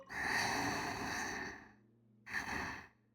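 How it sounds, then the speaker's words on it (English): Columbina sleeping in Genshin Impact, breathing softly in two gentle, sigh-like breaths, one long and one shorter, alone and quiet. "I don't know if I need to hear her breathing, though."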